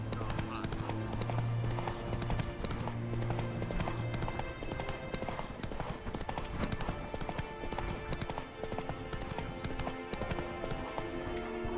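Roach the horse galloping in the video game The Witcher 3, a steady fast clip-clop of hooves running throughout at close range under continuous ambient game sound.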